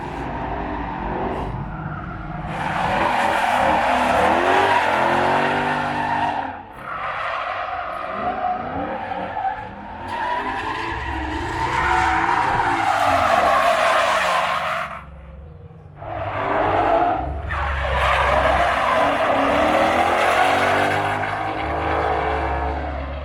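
A Ford car does a burnout in a burnout yard at the 2021 SEMA Show, with loud sustained tire squeals and engine roar that come in long bursts with brief gaps, heard close up with no talking.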